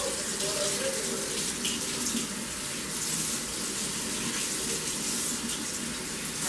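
Hot water runs from a tap onto an aluminum model passenger train car being rinsed clean, a steady loud splashing gush lasting throughout with slight shifts as the car moves under the stream.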